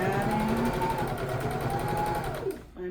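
A sewing machine runs at a fast, even stitch, sewing double fold bias tape onto the top of a robe cuff, then slows and stops abruptly near the end.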